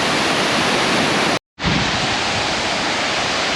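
The 40-metre Svandalsfossen waterfall in Norway roars as a loud, steady broadband rush. It drops out for a moment and then resumes at full strength.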